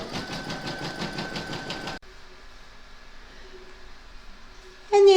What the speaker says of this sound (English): Load your thread for the centre motif into your machine, and then you're going to stitch round number 1